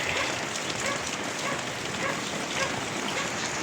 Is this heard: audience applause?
no